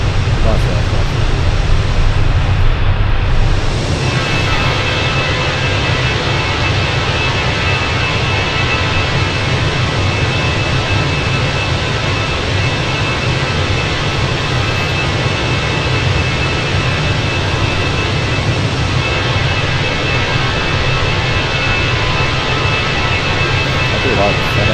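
A steady, loud roar of jet airliner engines heard from outside the Fenix A320 in a flight simulator during the climb fills the whole stretch as an unbroken broadband whoosh, with no break in its level.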